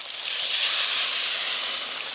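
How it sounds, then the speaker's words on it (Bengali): Water poured into hot spice masala in a pan bursts into a loud, steady hiss of steam that swells and then slowly eases off, close up and with no talk. "এবার পরিমাণ মতো জল দেব।"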